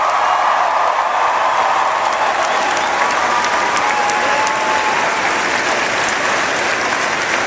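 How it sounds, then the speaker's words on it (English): A big audience at a President Obama event in Boulder breaks into sustained, dense applause, loud and even, with scattered cheers mixed into the clapping. "Please give Daniel a big round of applause for that great introduction."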